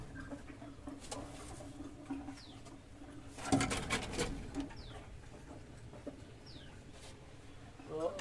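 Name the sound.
pigeon chick and pigeons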